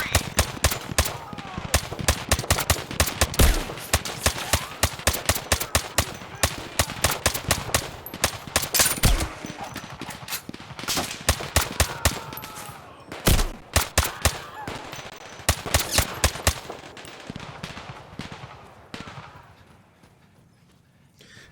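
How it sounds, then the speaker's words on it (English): Dense rapid gunfire from a firefight in the Zero Caliber VR game: bursts of sharp, loud shots in quick succession, with brief pauses around the ninth and thirteenth seconds, then more volleys that thin out and fade toward the end. "Firefight ahead of us."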